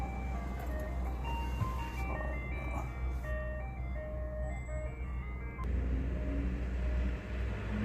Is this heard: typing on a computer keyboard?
no